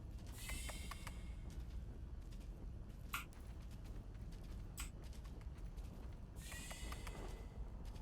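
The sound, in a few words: door opening in the video game Grounded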